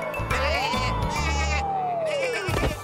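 A cartoon sheep bleats in one long, wavering, nasal cry that rises and then slowly falls, over background music, with a brief sound at the end.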